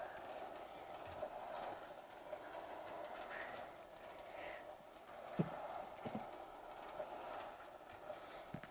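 A Minecraft minecart-style car rolls along rails in the video game, giving a steady rolling rattle with a few sharp clacks standing out over about nine seconds.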